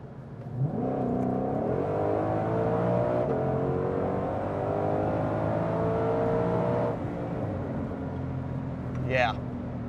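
A 2020 Shelby GT500 accelerates hard in sixth gear, its engine a steady, loud drone that climbs slowly in pitch over several seconds before easing off, heard from inside the car.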